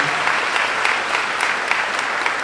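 Sustained applause from a crowd at a high school graduation ceremony, dense and steady throughout with no gaps.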